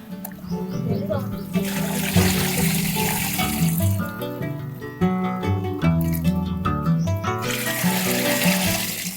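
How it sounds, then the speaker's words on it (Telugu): Watery clay slurry for making clay pots is poured and strained, giving a steady splashing trickle of liquid. The sound is close and continuous, with background music and a voice talking over it. "ఇట్లా మట్టి వడపోస్తున్నారు కదా"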